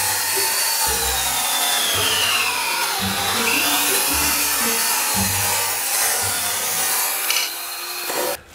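A Craftsman cordless chainsaw lopper cutting near the ground, a continuous whining motor with rhythmic chain-cutting pulses through wood, loud and close from start to finish, stopping abruptly at the end.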